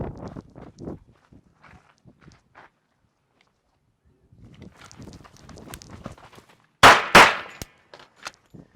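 Handgun shots during a practical shooting drill: after scuffling movement and footsteps, two sharp, loud, close reports crack out in quick succession, followed by a few fainter ticks.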